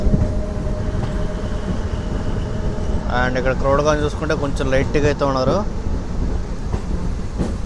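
DEMU passenger train from Secunderabad to Siddipet rolls along the rails with a steady, heavy rumble inside the carriage, while someone talks over it.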